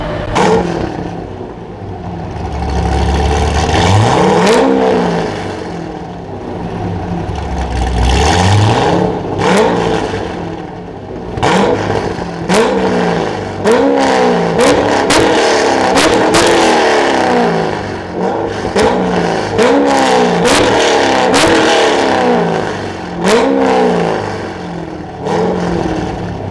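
A 2009 Corvette C6 Z06 V8 engine revving loudly and accelerating through repeated gear changes, rising and falling engine tones with sharp shift breaks, close and powerful with no talking.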